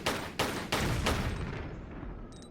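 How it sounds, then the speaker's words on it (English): Gunfire in the Tomb Raider 4 custom level Kartvelishvili, Corrupted Valley, several bright sharp shots in quick succession, each with a ringing tail, fading into an echoing decay. "The gunfire is a little bit bright."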